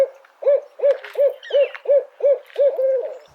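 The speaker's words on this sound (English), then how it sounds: "Then there's the barred owl, who's concerned about what's cooking for dinner" Barred owl hooting its rhythmic call, a series of about eight clear, evenly spaced hoots, close and loud with no talk.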